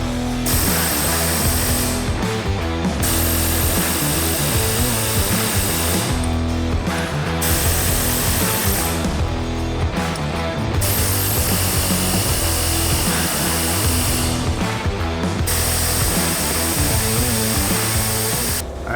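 A pneumatic air hammer pounds on the bolt heads of a rear wheel bearing on a 2012 Subaru Forester, a loud, continuous rapid-fire metallic clatter that runs for the whole stretch with only brief shifts in tone.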